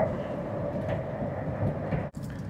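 Steady low rumble and rolling hum inside the Whoosh high-speed bullet train running in Indonesia, constant throughout with a brief dip near the end.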